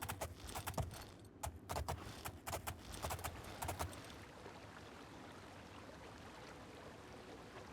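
Horse hooves clop in the video game Oblivion, a quick run of distinct beats for about four seconds before fading into a soft watery wash as the horse enters water.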